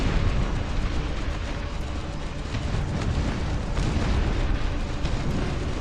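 Howitzer artillery fire and explosions in a video game: dense, continuous rumbling booms and bursts fill the whole stretch, loud and close, with no talk over them.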